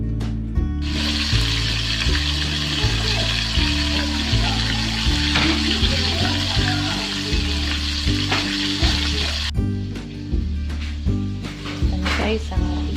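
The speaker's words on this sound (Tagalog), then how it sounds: "So, ipa-fry na lang natin siya." Chicken frying in hot oil for crispy fried chicken, a steady loud sizzle running throughout over a background of looping music.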